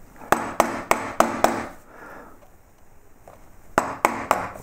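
A chisel cuts carved lettering into wood for a beer caddy, heard as a run of sharp, close mallet-driven knocks, a quieter pause, then another quick cluster of strikes.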